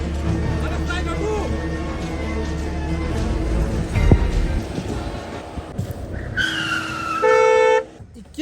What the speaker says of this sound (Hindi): एते हॉर्न बजा रहल छियै एकरा सुनाई नहीं दे छे